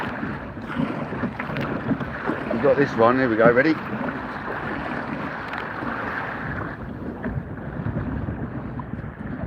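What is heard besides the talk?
kayak surfing through waves in wind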